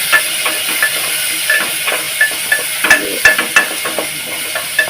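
Onions sautéing with salt in a pan, with a steady sizzling hiss and a series of light, regular scraping stirs from a spoon close by; no talking.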